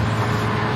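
Engine of a 2009 Isuzu Panther Grand Touring or 2005 Toyota Innova after Blackcore tuning, droning steadily and loudly from inside the cabin as the accelerator is pressed, with no clear rise in pitch.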